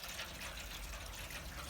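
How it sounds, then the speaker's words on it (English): Water from a jug poured steadily into a drip tray inside a Weber kettle barbecue, a continuous splashing gush heard close up and alone, with no talking. "put 1 jug of water in. I'm just going to put a second one in."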